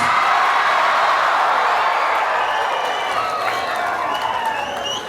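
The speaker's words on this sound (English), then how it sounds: "give our boys another kaila and another round of applause" A large crowd at a celebration for Fiji's Olympic gold medal sevens rugby team applauds and cheers, dense clapping with whoops and shouts that stays loud and slowly eases.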